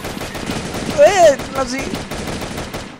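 Gunfire from a Mauser M1932 pistol in the shooter Truy Kich, short bursts of shots mixed with game effects while a voice speaks over them.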